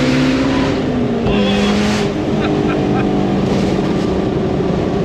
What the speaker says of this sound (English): But downshifts are nice.